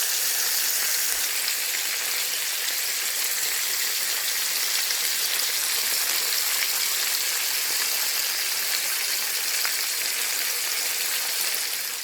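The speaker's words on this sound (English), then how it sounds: "So this is how much sear we want on our pork chops" Pork chops about an inch thick sear in a hot pan for smothered pork chops, giving a steady, loud, dense sizzle that holds without a break from start to finish, with no talking.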